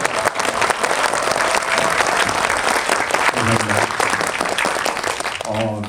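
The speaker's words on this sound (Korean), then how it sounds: "일단 축하의 박수 한 번만 부탁드리겠습니다." An audience claps steadily and warmly throughout at a film premiere talk event, a dense patter of applause filling the room, with a voice starting to speak as it fades.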